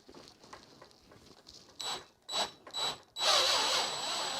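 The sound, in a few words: drill with extractor bit chewing into aluminum padlock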